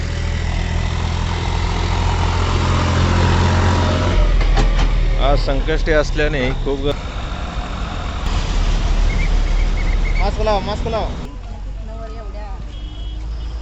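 Cars and trucks idle and rumble in a traffic jam on a crowded road by the Swayambhu Ganesh temple in Kawalapur, Sangli, on Sankashti. A steady low engine drone runs throughout beneath close, almost continuous talking and shouting.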